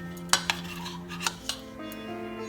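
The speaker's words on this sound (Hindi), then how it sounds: "हम इसमें तेल डालेंगे। इसे अच्छा से मिक्स करना है।" A spoon clinks and scrapes against a bowl as jhal muri, Kolkata puffed-rice street food, is mixed with mustard oil; a few sharp separate knocks over a low hum, close and moderately quiet.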